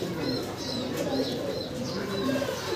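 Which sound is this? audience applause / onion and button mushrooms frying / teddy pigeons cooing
teddy pigeons cooing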